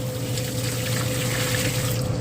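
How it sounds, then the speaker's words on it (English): Boiling water pours steadily down a sink drain with a continuous rushing, gurgling flow and a low hum underneath, no voices. "All that boiling water going down the drain."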